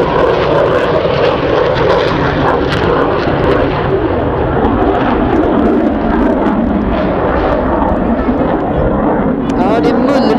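A Saab J32 Lansen jet rumbles in flight, a loud, continuous, heavy roar that holds steady for the whole ten seconds, with speech mixed in.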